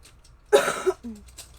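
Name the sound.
coughing fit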